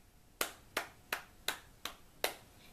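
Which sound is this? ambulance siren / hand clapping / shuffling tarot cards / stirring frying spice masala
hand clapping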